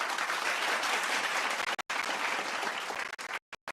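Participants in an online meeting give a continuous round of applause as a guest is welcomed, a dense, even wash of clapping that cuts out briefly a few times near the end.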